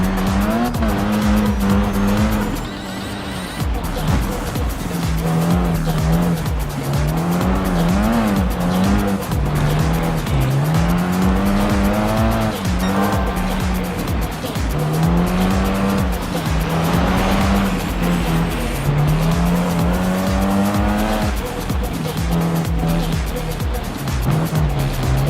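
Rally car in the racing video game Gran Turismo Sport, a steady loud engine note rising and falling through gear changes, with tire squeal and skidding running throughout the race, heard alone.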